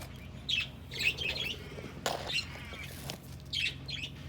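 A hen in an Australian backyard gives short squawks and clucks, a few separate bursts at moderate distance, with a brief rustle partway through and no one speaking.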